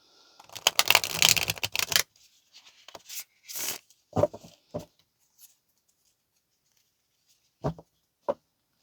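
Tarot cards are shuffled by hand in a quiet room, a quick flurry of riffling and soft slaps, then a few isolated taps and card clicks separated by silence.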